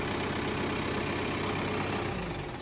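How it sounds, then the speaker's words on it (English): A 2022 Kubota M7060D tractor engine idles steadily after starting, a close, even diesel rumble with a constant low drone and no voices. "we're going to start the tractor to show you"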